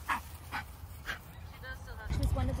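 Close, short whimpers and high yips come from a shelter dog at a farm, a few separate cries over about two seconds, with people talking around them.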